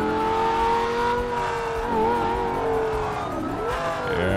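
Lamborghini in GTA 5 driving hard, a loud continuous engine whine rising and dipping with gear changes and throttle, steady and close with no talking.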